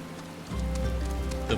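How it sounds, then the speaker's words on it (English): Steady rain falls in Final Fantasy XIV, setting in abruptly as a continuous hissing wash that stays even and fairly loud to the end. "Oh, it's raining. Lovely. Love rain."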